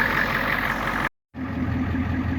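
A 1989 car engine idles steadily after a voltage regulator replacement, a continuous even rumble and hum at close range, broken by one brief gap of silence.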